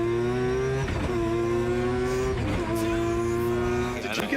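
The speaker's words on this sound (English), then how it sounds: "The car sounds like he's ringing it out way harder than us." Race car engine on a circuit, revved hard through repeated high pulls, each climbing then dropping sharply at the gear change, loud and close, with a faint voice under it.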